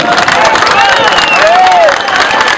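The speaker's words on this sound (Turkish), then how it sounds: "Alkışla cevap verelim." A gathered crowd applauds and cheers in a loud, continuous wash of clapping, with voices and whistle-like calls rising over it.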